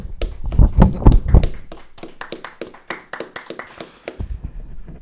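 A small group of book club participants at a literature discussion gathering claps together, close by, with dense, scattered hand claps that thin into sparse taps and then briefly pick up again. Nobody speaks.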